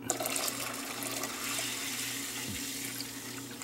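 Water being poured from a container into a cooking pot of mung beans for Filipino monggo stew, a steady, close splashing and trickling that runs continuously for several seconds with no talk.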